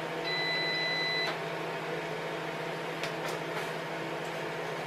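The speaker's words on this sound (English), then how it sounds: "that beep gives you a 5 second warning to tell you it's going to move" A Creality CR-10 3D printer gives a thin, steady electronic warning beep lasting about a second over a constant fan-like hum, followed by a few soft mechanical clicks before the bed moves.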